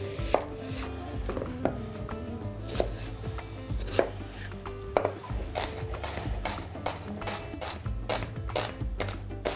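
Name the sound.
chopping onion finely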